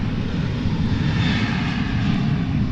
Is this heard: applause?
no